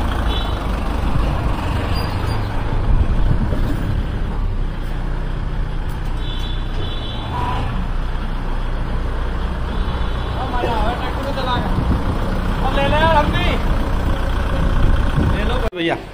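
Kubota MU 4501 tractor engine running in gear, a steady close diesel drone with rattles and faint squeaks throughout, as people talk over it.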